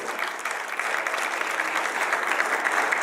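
An audience at an educational event claps for a teacher. The applause is dense, sustained and even, with no voices over it.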